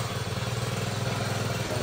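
A 4-stroke shoulder-mounted grass cutter engine runs steadily without its blade fitted, a close, even mid-pitched putter with a regular pulsing rhythm and no talk.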